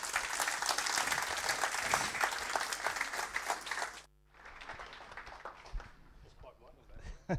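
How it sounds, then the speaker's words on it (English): An audience at a Unipart colleagues awards ceremony in Nuneaton claps in a dense, loud burst of applause that cuts off abruptly partway through, leaving quieter scattered noise and shuffling afterward. "we can give him a round of applause"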